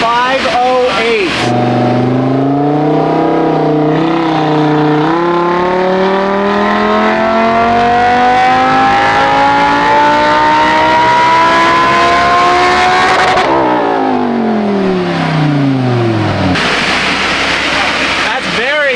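A Lamborghini engine revs hard on a power test, its loud close roar sweeping upward through long gear pulls, cutting off abruptly, then winding back down and rising again with a whoosh, with voices mixed in under the noise.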